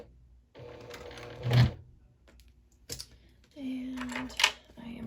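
A sewing machine back stitches slowly through a small circular wristlet bag, running in short bursts of close mechanical whirring separated by pauses, with a brief louder knock midway.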